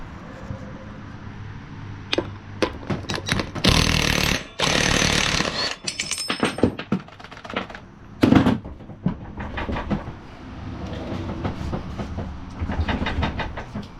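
Bolts on the transmission of a Cub Cadet 1170 lawn tractor are worked loose, with sharp intermittent bursts of rattling, hammering mechanical noise broken by quieter clanks and pauses.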